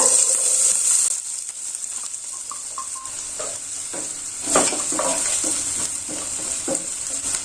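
Finely chopped onion sizzles and crackles steadily in hot oil, with occasional stirring scrapes against the pan, fairly close.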